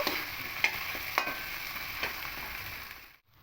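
Spices and vegetables sautéing dry in a pan for a carp and potato curry, a steady close sizzle broken by a few sharp stirring scrapes, fading out at the end with no talking.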